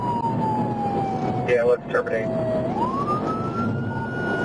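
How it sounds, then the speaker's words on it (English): A police car siren wails during a highway pursuit, a long sliding tone that falls and then rises again, heard over constant road noise with brief speech from inside the car. "Lights and siren are off."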